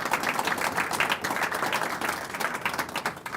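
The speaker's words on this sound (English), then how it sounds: "So a round of applause for any volunteers that's here that's given you time." Audience applause at an astronomy society's annual dinner meeting, a steady wash of many hands clapping at moderate volume for the whole stretch, with no voices on top.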